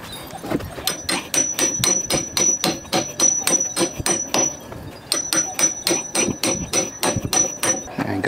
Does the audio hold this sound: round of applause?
no